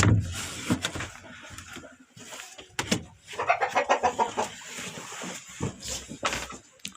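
Barkovsky hens clucking at night near a brooder, scattered calls and low murmurs at moderate distance, irregular and busy, with no talk.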